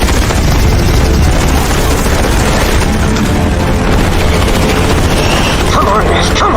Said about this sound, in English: Out of missiles! Switching to guns!